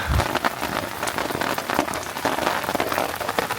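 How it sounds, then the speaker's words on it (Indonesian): Heavy rain falls on a solo camp in a dark forest, a dense, constant patter and splash of drops close by on surfaces, with no voices. "sambil nungguin hujannya reda"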